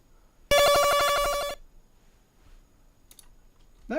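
A single bright 8-bit retro game ping chime rings for about a second, loud and alone, with rich stacked harmonics and a fast pulsing flutter, followed by quiet room noise and faint clicks.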